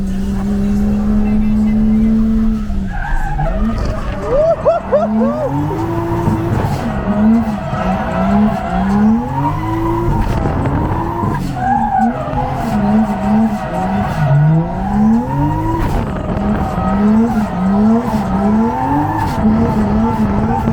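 Tires screech and squeal in repeated drift slides from a 2JZ-GE-swapped drift car during a passenger ride-along at a Ready Set Drift season-finale event, the loud engine droning underneath throughout while occupants talk over it.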